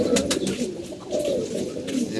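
Several moulting racing pigeons coo continuously in low, rolling murmurs, close by, with soft rustling among them.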